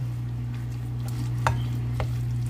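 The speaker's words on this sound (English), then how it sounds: "Go ahead and mix that up." Sweet pickle relish being stirred into a mixture in a home kitchen, with a few soft scraping strokes of a spoon over a steady low hum, quiet and close.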